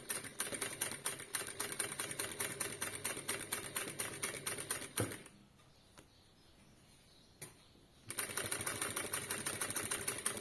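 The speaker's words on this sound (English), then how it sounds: "I'm going to be quilting very slowly, and I'm going to be using the width of the presser foot as my width between rows of stitches" A sewing machine quilting slowly with a presser foot stitching rows, giving a steady rapid mechanical ticking that stops for a few seconds of near quiet, then resumes at the same even pace.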